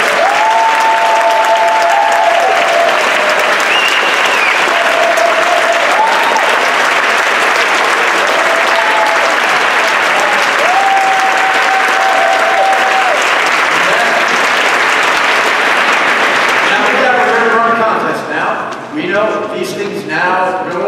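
Sustained loud applause fills a hall at a district speech contest, with whoops and voices over it, then it breaks off into talk near the end.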